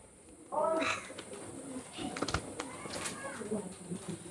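A female Ferozpuri teddy pigeon gives a short, soft coo near the start, followed by faint rustling and handling noise at low volume.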